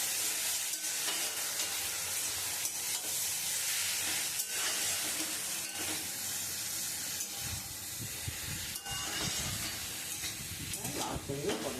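Bottle gourd and shrimp stir-fry for lau chingri in a pan, a continuous hissing sizzle broken by repeated scraping stirs that grow busier toward the end.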